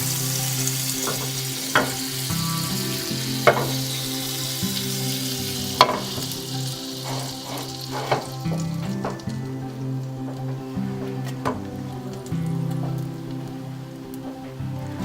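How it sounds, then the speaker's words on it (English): Bread slices toast in melted butter in a pan over low heat for Korean-style toast, giving a steady crackling fry throughout, with occasional sharper pops and spatter close by. "Put extra butter on a pan and also let them melt in a low heat."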